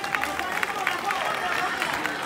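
An audience applauds a birthday guest at a lively gathering in Arguedas, with dense clapping and crowd noise heard close and loud throughout, while a host talks over it.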